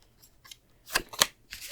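Lenormand fortune-telling cards shuffled on a table, giving a few quick riffling bursts close by, with quieter card rustles in between.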